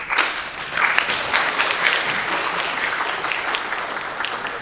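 Audience applause at the close of a conference talk on responsible AI metrics and model explainability, a steady dense wash of clapping from a crowd that holds for several seconds, with no talking.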